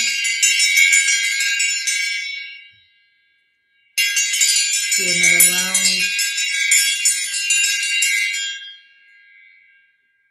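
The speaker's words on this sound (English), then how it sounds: "ringing the bell" Bright ringing bell tones in two long bursts separated by a short silence, with a brief voice speaking beneath the second burst.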